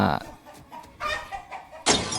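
A chicken clucks in the Lego Marvel Avengers video game, a few short, abrupt squawks separated by brief pauses, with a final louder burst at the end.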